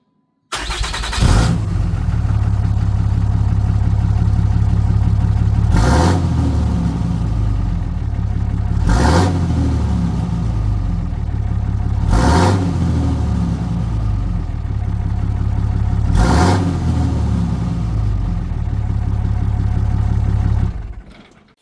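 A stock 6.7 Cummins diesel truck sits idling with a deep, steady exhaust rumble, broken by four or five sharp throttle blips that swell loud and fall back to idle, close and without voices.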